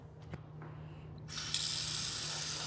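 A kitchen faucet in a Florida home opens with a faint squeak, then water gushes steadily and loudly into the sink, close by with no voices.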